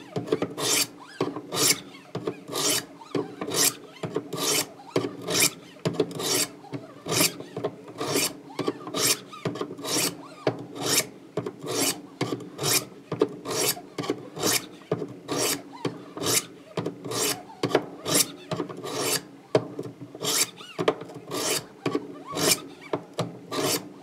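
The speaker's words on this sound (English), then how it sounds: "now to knock off the burr, what we're going to do is same grit, and instead of using the scrubbing motions, we're going to use this kind of motion" A knife blade is stroked across a sharpening stone to knock off the burr, giving a steady run of rhythmic rasping swipes, roughly two per second, close and clear with no talking.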